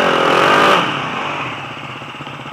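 A motorcycle engine roars loudly up close for under a second, then drops to a lower, fading drone as the bike moves off, ending with a brief bump of noise.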